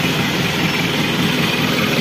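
Isuzu Panther turbo diesel engine running at a steady idle, a close, loud, even rumble with a dense rattling texture and no voices.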